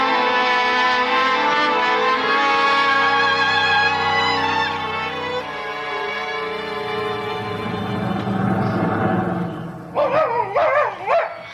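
A dog barks and whimpers in an old Lux Radio Theater drama, yelping excitedly over a held orchestral music cue for several seconds, then giving a few sharp, close barks near the end.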